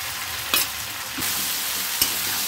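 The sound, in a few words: fried prawns added to sizzling pan for curry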